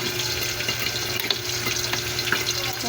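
Jackfruit simmering in coconut milk with chili gives a constant bubbling, frying hiss with soft wet crackles, close and steady throughout without talk.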